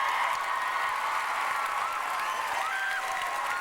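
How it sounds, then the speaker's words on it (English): Studio audience applauding at the close of a band's performance on a televised music competition show, a steady, dense wash of clapping that holds evenly throughout with faint crowd noise mixed in. "Big round of applause."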